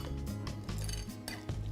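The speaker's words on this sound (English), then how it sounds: "can help them by stirring a little bit while they're melting" Melting chocolate chips stirred in a pot on a medium burner, with a steady low kitchen rumble and a few soft metallic scrapes and clinks of a utensil against the pot, close and continuous with no talk.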